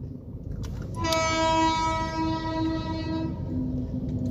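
An Indian Railways train passes close by with a steady heavy rumble, and a loud, sustained horn blares for about two and a half seconds over it.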